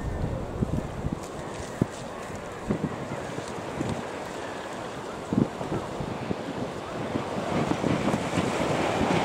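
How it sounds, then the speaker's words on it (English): Strong wind blows at the coast, buffeting the microphone with a continuous roar and sudden gusty thumps, steady and loud for the whole stretch with surf-like noise underneath. "Very, very windy though."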